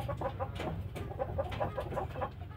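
Free-range chickens clucking on a farm before feeding, a flock giving soft repeated clucks at fairly close range over a low background rumble.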